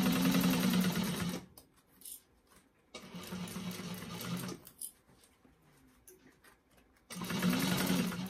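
Sewing machine stitching a fabric bag, loud and close, running in three bursts of rapid mechanical whirring separated by quieter pauses with faint handling noise.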